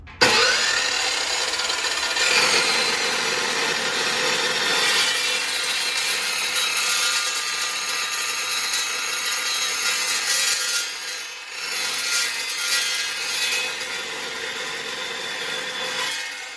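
A chop saw cuts through metal stock in a welding shop, a loud, continuous abrasive grinding roar that holds steady nearly throughout and dips briefly toward the end.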